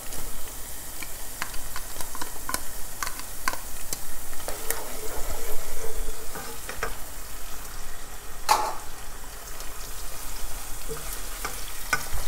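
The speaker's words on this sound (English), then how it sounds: "I want to make the onion fry till the onions is a bit translucent" Onions and scotch bonnet pepper fry in a pan, giving a steady close sizzle with occasional stirring scrapes and ticks, with no talk over it.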